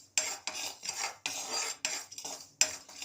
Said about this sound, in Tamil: இப்போ அடுத்து மிளகாத்தூள் வந்து வறுத்துக்கிறோம்.